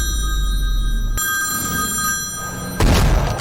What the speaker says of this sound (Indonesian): Saat handphone Vasu berdering